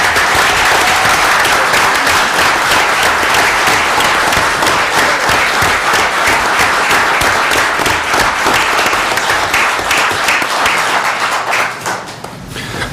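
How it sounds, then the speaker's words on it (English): Sustained applause and clapping from a crowd at a city council meeting after a motion passes and a lieutenant promotion is congratulated, steady and dense for about twelve seconds before tapering off at the end. "I think these guys should come to every meeting and clap when we make decisions."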